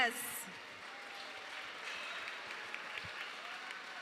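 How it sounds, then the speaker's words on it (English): Faint, distant applause from an Iron Chef Detroit cooking competition audience for the judges, a soft continuous patter after a brief cheer at the start. "Let's hear it for all of our judges."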